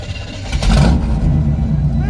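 A Corvette engine revs through a 4-inch exhaust at a Corvette gathering, a loud close burst of throttle that climbs and then holds a rough, steady rumble, with people talking faintly nearby.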